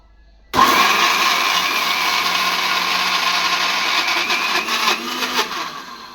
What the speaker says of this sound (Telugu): మిక్సీకి అయితే పట్టేస్తున్నాను